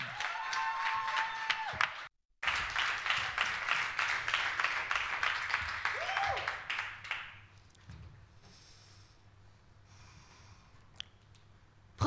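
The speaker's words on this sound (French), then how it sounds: "Je vous demande d'applaudir bien fort et de l'encourager" Audience applause at a French university debate competition semi-final, dense rapid clapping for about seven seconds that briefly cuts out, then fades to quiet room tone with scattered faint sounds.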